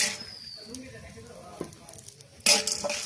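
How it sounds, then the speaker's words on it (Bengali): Soft sizzling as almonds, pistachios, cashews and peanuts fry in hot ghee with faint stirring scrapes, then a sudden louder burst of crackling frying near the end. "ঘি গরম হয়ে গেছে, এখন এর মধ্যে দিয়ে দেবো আমি কিছু বাদাম।"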